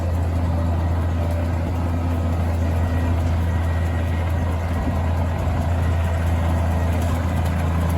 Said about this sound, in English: multi-bladed harrow running behind the tractor there.